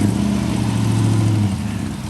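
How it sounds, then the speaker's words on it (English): Daimler V8 engine at a centenary car show, a loud close rumble with a throttle blip that swells and then settles back toward idle. "he'll give us a flip on the throttle so that we can hear the rather lovely note of that V8 engine"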